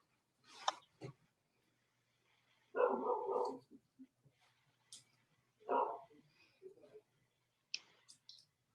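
Dogs bark in short, separate bursts indoors, heard muffled behind closed doors and at moderate distance, with a few sharp clicks and quiet gaps between the barks.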